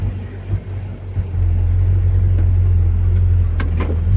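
A car engine idles after an exhaust and header leak repair, giving a steady low rumble close by that firms up after the first second and holds evenly, with a couple of faint clicks near the end.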